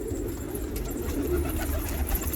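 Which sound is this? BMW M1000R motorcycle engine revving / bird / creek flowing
bird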